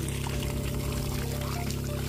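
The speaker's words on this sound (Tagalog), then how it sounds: "Ganyan po yung kalalabasan pagka medyo malakas yung tubig." Water gushes strongly out of a homemade contraption outdoors at a park, a loud, steady, close pouring rush that continues unbroken with no voices.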